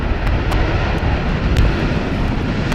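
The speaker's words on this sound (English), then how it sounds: "most of them thus far have been able to gently put down the aircraft in one go" An airliner arrives on runway 18R at Amsterdam Schiphol in rainy, windy weather, its jet engines producing a loud, steady broadband roar mixed with wind and rain noise that holds throughout.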